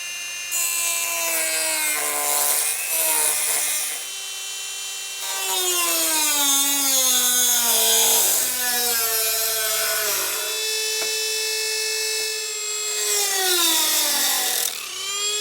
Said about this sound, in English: Okay, so I'm going to cut this out with the Dremel.